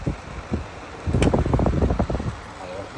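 A Whirlpool dehumidifier with an H1 fault runs its fan. It makes a steady, close airy whoosh that swells briefly midway, and a voice is faintly audible beneath it.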